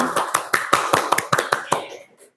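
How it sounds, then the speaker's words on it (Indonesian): Audience at an Indonesian school talk show claps for two hosts, a short burst of about eight distinct sharp claps, fairly close, tapering off within two seconds. "Kita boleh dong tepuk tangan dulu buat April dan Bulan."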